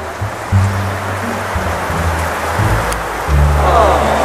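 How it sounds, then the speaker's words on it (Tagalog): Heavy rain pours down in a steady wash of hiss, with low humming tones and faint voices in the background. "Lumakas na yung ulan."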